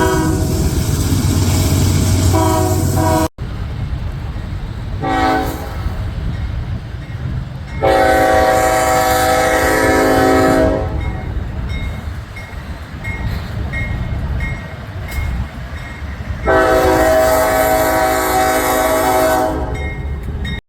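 A freight train rumbles past close by a truck stop, its horn blaring in several long blasts over the steady roll and clatter of the cars.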